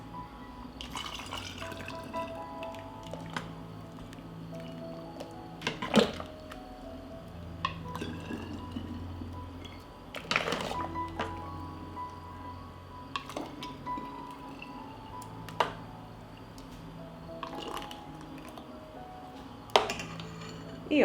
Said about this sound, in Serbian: U sterilisane flaše sipam vreo paradajz.